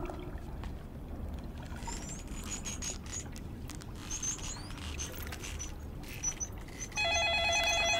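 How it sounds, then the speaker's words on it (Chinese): A telephone starts ringing at the end with a bright, repeated electronic trill that is close and loud, following a stretch of low rumbling ambience with faint clicks and scattered chirps. "电话是不是响了？"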